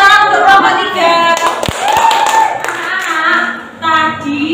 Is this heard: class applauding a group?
yes